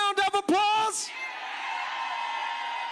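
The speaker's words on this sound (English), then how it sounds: "Give black women a round of applause." Crowd at an outdoor voting rights rally in Montgomery whooping and cheering, starting with a few sharp yells that swell into a sustained roar of cheers and applause.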